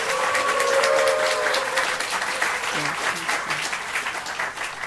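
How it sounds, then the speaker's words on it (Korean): Warm, sustained applause from a congregation at Seoul Hosanna Church during an ordination greeting, a dense wash of clapping that gradually eases, with a voice speaking underneath. "우리 인사하실 때 사랑과 격려의 박수 보내드리겠습니다"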